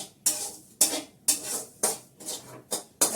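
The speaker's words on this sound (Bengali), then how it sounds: "পিতাম্বরী দিয়ে মাজতে হবে।" A burnt wok being scrubbed with Pitambari cleaning powder: about six sharp, rhythmic scraping strokes, evenly spaced and close up, with quiet gaps between and no talking.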